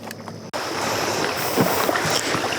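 Water splashes against rocks in a broad, continuous washing hiss recorded close up, with a few sharper slaps and no talking.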